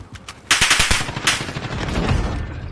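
Rapid automatic fire from an unscoped Kilo assault rifle in Warzone, a loud sustained burst of close shots with a few scattered single reports before it.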